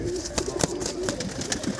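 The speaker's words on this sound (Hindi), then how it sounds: "और बड़े हसीन कबूतर हैं" Pigeons of the jante breed coo in a loft, a low steady throaty murmur with soft repeated pulses, close and continuous over faint background noise.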